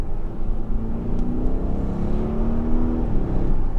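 Audi RSQ8 accelerating hard in manual mode on soaking wet roads: a steady engine drone rises in pitch under tyre and road roar, then drops briefly at a gear change, all recorded from inside the cabin.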